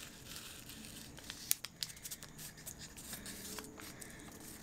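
Paper is folded by hand into a small packet, producing quiet, close crinkling and crumpling with a few sharp crackles in quick succession, and no talk.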